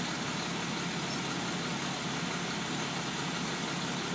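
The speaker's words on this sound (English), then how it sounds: "we do have the engine noise" Truck engine idling steadily nearby while a motorhome and tugboat trailer are positioned, a constant broadband rumble filling the scene with no talk.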